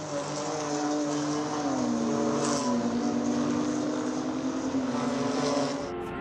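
A BMW M2 CS race car at the Red Bull Ring powers through a corner, its engine a steady loud drone with pitch sliding down and holding, heard alone from trackside.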